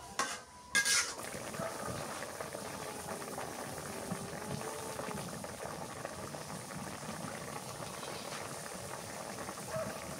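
A sea fish (surma) curry with beans bubbling steadily in a pot while it is stirred now and then; a sharp metallic clink opens the continuous, close simmer.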